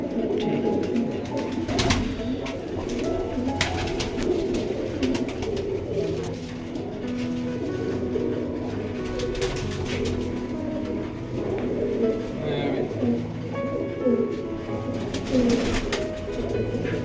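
Pigeons coo repeatedly at close range in a loft of racing or flying pigeons, the soft throaty calls overlapping steadily throughout with faint background rumble and no talking.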